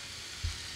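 Meat drops into hot oil in a pan and sizzles with a steady, faint hiss, marked by one brief low thump as it lands.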